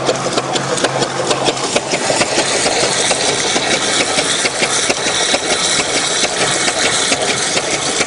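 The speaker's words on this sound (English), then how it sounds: "By slowing the pump speed with the water, we can save a little bit of wear and tear on the pump by not having it tick over as fast." A StreetPrint Rapid Sprayer II pump, running with water at slow speed, gives a steady, loud mechanical drone with a fast ticking rattle that continues unbroken from start to finish.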